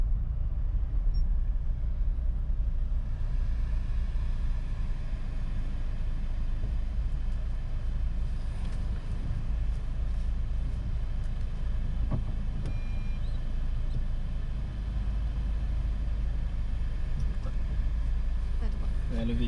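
A car reversing straight back into a parking space between two parked cars, grey and red, during a driving lesson; a steady low engine rumble runs throughout at constant level, with faint voices.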